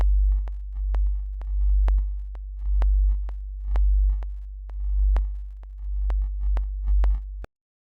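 A heavy, booming bass line pulses in short rhythmic hits, its tone turning gritty and distorted from volume automation, with a buzzy crackle riding on top, then cutting off abruptly.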